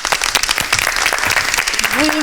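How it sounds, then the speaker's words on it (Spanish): Loud, close applause from an audience welcoming a guest to a science lecture on childhood acute hepatitis, with voices heard over the clapping. "Recibámosla con un aplauso."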